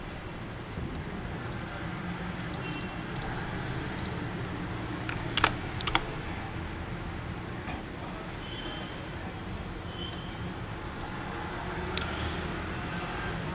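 A computer keyboard is typed on during a login, with sparse, soft keystroke clicks spread over a faint, constant background hum and no speech.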